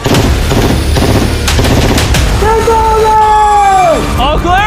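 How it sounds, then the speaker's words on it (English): Rapid sustained gunfire aimed at a moving train, loud and dense bursts of shots throughout, with a rising siren-like whine and excited voices mixed in toward the end. "These are the last bullets."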